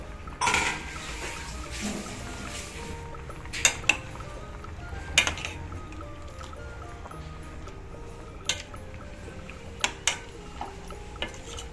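Cleaned prawns go into a simmering curry pot with jackfruit seeds and drumsticks, followed by scattered metallic clinks and scrapes of a spoon against the pot over a soft background, with no speech.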